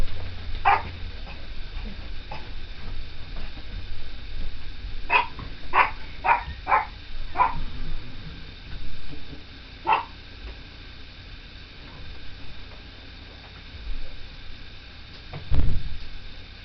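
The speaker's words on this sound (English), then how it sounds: "sometimes you gotta let a dog bark." A dog barks in a quiet indoor room, a handful of short, sharp barks spread unevenly over several seconds, mostly clustered in the middle, heard alone at moderate distance.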